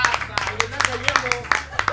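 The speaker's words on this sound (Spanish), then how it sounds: "Un aplauso, un aplauso. ¡Aplauso!" Audience clapping at a lively cumbia party, a few sharp claps in an uneven rhythm over steady low music and nearby talk.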